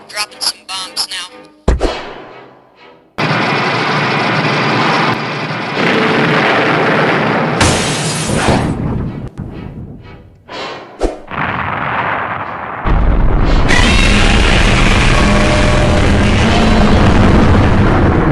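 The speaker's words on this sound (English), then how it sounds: "Dropping some bombs now." Bombs dropped by fighter jets explode in a monster movie battle, a run of loud booming blasts with rumbling low-end roar that sustains almost continuously, with brief gaps between heavy detonations.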